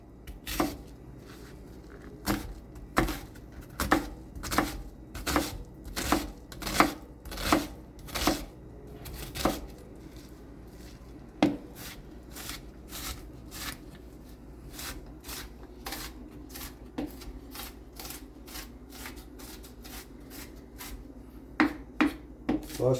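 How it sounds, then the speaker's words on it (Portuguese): A knife chops a halved onion on a cutting board for arroz à piamontese: a long run of sharp, evenly spaced taps, steady and close, that slows briefly midway and then picks up again. "picar essa cebola"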